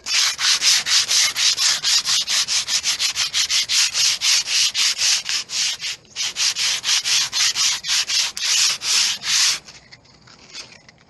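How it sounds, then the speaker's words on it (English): Hand sanding of a UPVC door frame with 60 grade sandpaper: rapid, rhythmic back-and-forth rasping strokes, loud and close, with a short pause midway, ending in quieter scuffing. "With a piece of 60 grade sandpaper, I can rub this down"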